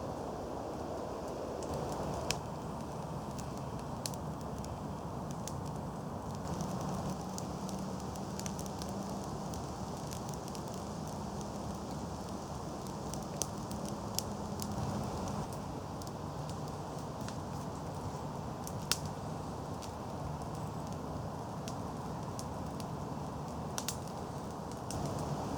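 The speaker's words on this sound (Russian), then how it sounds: "Вот уже костер занялся всерьез, и нижние бревна загорелись." A fence-style campfire, its lower logs catching and burning steadily, crackles with scattered sharp pops over a constant soft roar of flame, close and alone.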